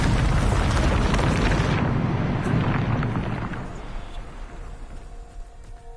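Bombarda explosion spell in Hogwarts Legacy, a loud blast and rumbling burst that starts at full force, then slowly fades over several seconds into a low, settling rumble, with no one speaking.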